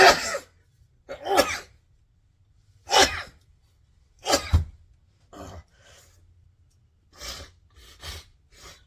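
A run of sharp, explosive sneezes and snorts, about seven bursts spaced by short pauses, loud and close.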